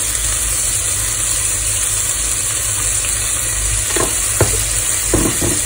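Long beans and beef stir-frying in a pan with sesame oil and sweet soy sauce, a continuous bright sizzle with a few scraping stirs of a utensil near the end.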